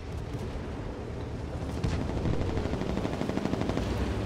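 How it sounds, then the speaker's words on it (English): Strike aircraft make an attack run in World of Tanks, producing a continuous heavy roar of rumbling gunfire and explosions that grows louder partway through, with no talking. "Strike aircraft commencing their attack run."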